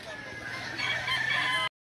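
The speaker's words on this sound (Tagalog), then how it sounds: "Manok lang, manok" A chicken calls continuously for under two seconds, loud and close, with a busy background at a livestock auction market in Lipa City, Batangas; the sound cuts off abruptly.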